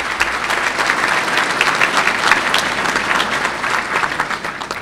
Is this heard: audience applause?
yes